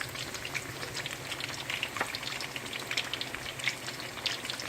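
Plantain slices sizzle in hot oil during their second frying, a steady crackling patter of small pops with no talking.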